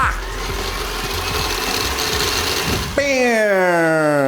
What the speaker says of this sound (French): Donc 100 g de jaune d'œuf, 100 g de sucre, bla, on va mixer.